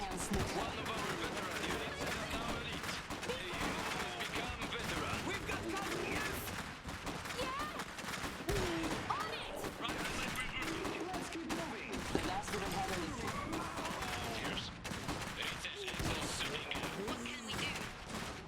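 Continuous battle gunfire in the real-time strategy game Iron Harvest, a steady dense clatter of shots and distant blasts that never lets up, with a player talking over the din throughout.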